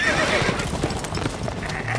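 A horse in the video game The Witcher 3 whinnies loudly with hooves clip-clopping underneath, a short startled burst of neighing and trotting close by, with voices talking over it.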